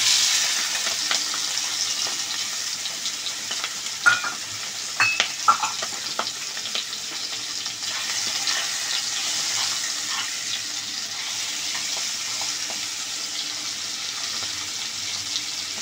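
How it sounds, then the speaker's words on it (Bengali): Prawns sizzle and fry in a pan with a steady hiss, broken by a few sharp spatters and utensil taps, close up with no voices. "এই চিংড়ি মাছ কটা ভেজে নিচ্ছি।"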